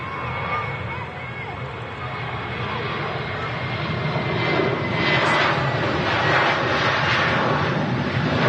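A Ryanair jet bound for Gran Canaria rolls down the runway at Manchester Airport, its engines a steady, loud broadband roar that builds slightly as it accelerates, heard from a distance.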